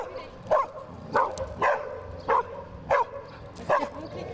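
A reactive dog barks in about seven sharp, evenly spaced bursts over a few seconds, close and fairly loud, with some outdoor background noise between the barks.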